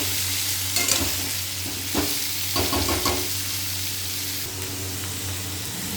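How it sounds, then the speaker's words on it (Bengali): Young jackfruit frying in a pan, a steady, close sizzle with bursts of crackle and a few scraping stirs, heard alone without talk. "এঁচোড়টা হালকা করে ভাজা করে তুলে রাখবো"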